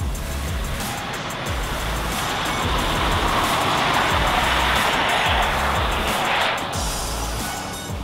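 A Nissan Leaf electric car is driven at full throttle around a J-turn. The run is a continuous loud wash of road and tyre noise with a rising and falling whine from the motor, and no one talks.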